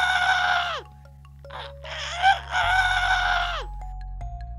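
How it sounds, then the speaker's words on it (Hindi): Rooster crowing loudly in an animated farm scene, two long, strained crows close by over a steady low musical drone, with no speech. "एक मुर्गा जोर जोर से चीख रहा था।"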